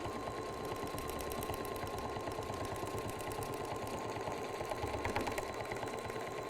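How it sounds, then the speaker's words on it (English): A sewing machine runs continuously, its needle stitching in a fast, even rattle with a steady motor whine, close and without talking. "Remember, this is a sewing machine"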